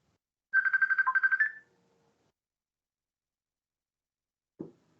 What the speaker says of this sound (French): Je m'excuse, je vais éteindre mon téléphone.